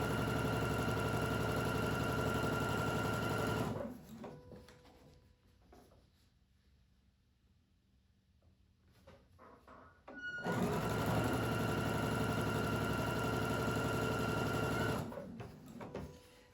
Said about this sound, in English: you're just keep sewing each piece along